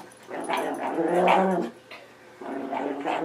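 A dog riding on a man's back while he does push-ups growls and whimpers in two close, throaty bursts separated by a short pause.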